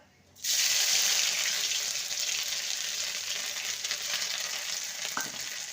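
Ginger paste hits hot mustard oil and bursts into a loud, steady sizzle that keeps going without a break, with a faint stir near the end.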